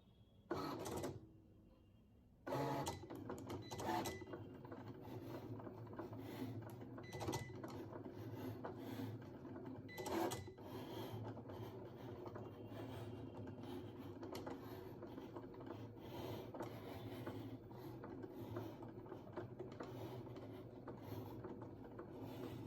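A Cricut Explore 3 cutting machine running a cut, with a faint, continuous mechanical whir and rubbing broken by occasional clicks and ratcheting pulses throughout.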